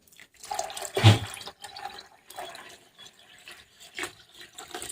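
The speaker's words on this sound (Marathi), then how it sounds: "आता आपण परत त्याच्यात पाणी ॲड करू" Water splashes and trickles in uneven bursts as it is poured into a bowl of sago, a close pouring sound that starts and stops several times.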